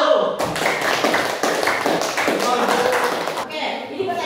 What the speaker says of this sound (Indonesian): Kita berikan aplaus buat semua kelompok.